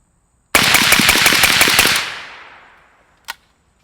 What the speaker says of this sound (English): Just gonna mag dump into the berm